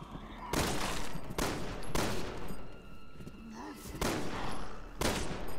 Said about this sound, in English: I've missed more shots than I've hit